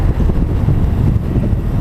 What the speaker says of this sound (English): Wind though, wind is a factor.